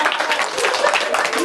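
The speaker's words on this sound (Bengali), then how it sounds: "ওর জন্য একটা জোরে হাততালি হবে।" A crowd applauds for a winner at an outdoor girls' Mojo drink contest in Dhamrai, steady dense clapping filling the whole moment with a voice talking over it.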